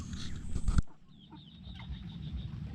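Chickens in a coop built over a pond cluck softly and intermittently in the background, with a brief louder burst of noise near the start before it settles into quiet farmyard ambience.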